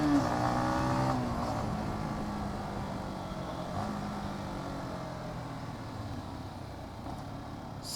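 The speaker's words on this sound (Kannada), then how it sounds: "ಸೌಂಡ್ ಕೂಡ, ಎಕ್ಸಾಸ್ಟ್ ನೋಟ್ ಕೂಡ ಇಂಪ್ರೆಸಿವ್ ಆಗಿದೆ" Yamaha XSR 155 motorcycle exhaust note, a steady, fairly loud engine drone with pitch shifting as revs fall and hold, heard alone without talk.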